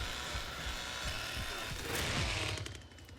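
A chainsaw in the Texas Chainsaw Massacre video game, a rough buzzing roar with choppy, rattling bursts that swell and then fade, fairly faint overall.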